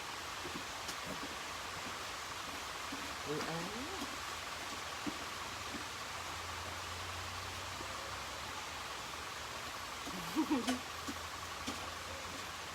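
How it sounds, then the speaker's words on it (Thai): Rain falls steadily outdoors as an even, continuous hiss, with brief faint voices in the background at a couple of moments. "ฝนตกแล้วเนี่ย"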